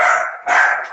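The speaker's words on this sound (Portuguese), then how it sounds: "Vocês estão escutando um cachorro latindo?" A dog barks twice in quick succession, fairly close and loud, with no talking.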